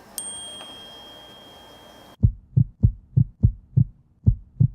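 An Apple Watch Series 3 plays a heartbeat message: after a faint tone and hum, a series of about eight soft, low, evenly spaced thumps beat out a steady pulse.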